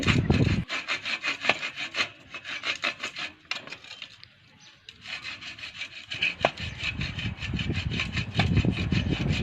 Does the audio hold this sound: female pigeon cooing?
no